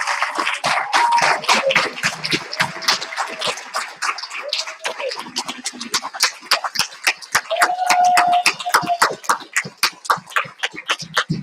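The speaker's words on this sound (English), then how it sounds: "Please join me in giving the entire class a round of applause." A graduation commencement audience applauds the class of 2021: scattered, uneven hand claps ring out sharply across the hall, rising in density partway through, with murmuring voices underneath.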